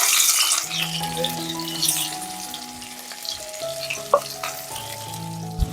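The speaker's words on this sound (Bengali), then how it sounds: "ওই তেলে পেঁয়াজ রসুন এবার দিয়ে দেবো" Oil sizzles steadily as onion and garlic fry in a pan for a village-style chicken curry, with occasional clinks of a utensil and a faint background tone.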